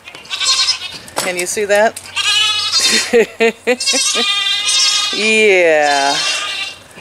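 Goats bleating repeatedly at a farm near a new chicken house, loud wavering cries overlapping one another, with someone talking close to the microphone between and over the calls.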